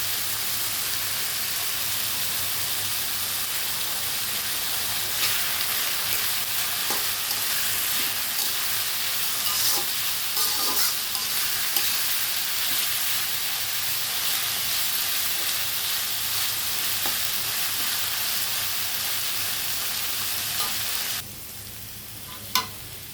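Ginger garlic paste, turmeric, coriander and cumin cooking in a pan, a dense steady sizzle with occasional faint scrapes, the hiss dropping off abruptly near the end followed by a single clack.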